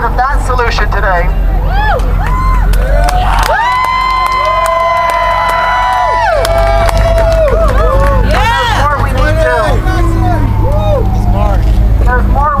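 A crowd of medical cannabis supporters gathers outside LA City Hall, a loud, dense babble of voices and cheering with children's shouts mixed through it.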